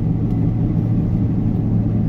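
Steady low road rumble from a car cruising on tires balanced with antifreeze, a smooth continuous drone with no thumping or vibration, close and even throughout.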